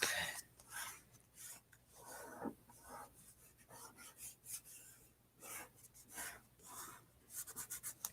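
Tape being pressed and rubbed down onto watercolor paper, a quiet series of scratchy rubbing strokes in irregular bursts, close and faint.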